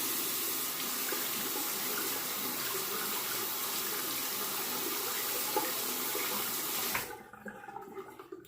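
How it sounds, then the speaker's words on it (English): Tap water runs steadily while a Merkur Progress safety razor is rinsed under it, a loud continuous splashing rush that cuts off sharply near the end, leaving faint handling sounds. "I'm going to rinse the razor one more time right here on camera."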